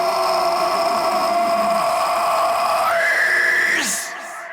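Layered harsh metal vocal screams, a high shrieking main scream with left and right dubs stacked over lower growled screams, held continuously before rising sharply and cutting off.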